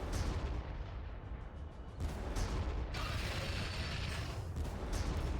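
Artillery fire from the Warhammer 40,000: Armageddon strategy game, a dense, continuous roar of booming shots and rumbling explosions that keeps up loudly and steadily throughout.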